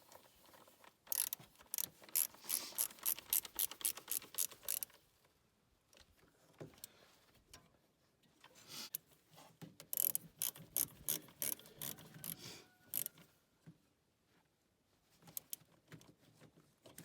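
A ratchet wrench tightens bolts on the lift pump of a 2002 Ram 5.9L Cummins diesel, fast clicking runs in several bursts separated by quiet pauses, close up and without talk.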